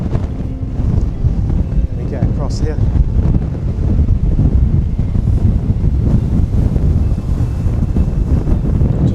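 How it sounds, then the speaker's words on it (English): Strong wind buffets the microphone with continuous loud low rumbling while a person crosses lock gates, and a voice speaks briefly over the noise. "Oh, very windy, hope you can hear me."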